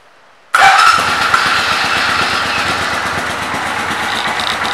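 A 1987 Suzuki VS700 Intruder motorcycle engine starts abruptly after a brief silence, then settles into a loud, steady, throbbing idle close by, with no talk.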